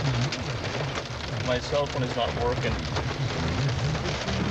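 Hail pounds down steadily during a June storm in Saskatoon, a dense rattling roar on a vehicle with wind rumble, while a person talks over it.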